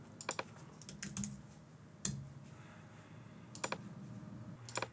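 Someone types on a computer keyboard while doing a Cricut Design Space design, giving short bursts of quiet, close key clicks with gaps between them.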